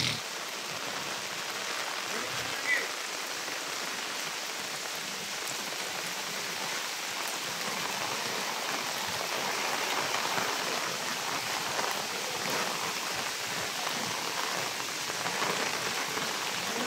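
Heavy rain pours steadily on a village, a dense, even hiss of drops on surfaces that holds at constant loudness throughout with no voices.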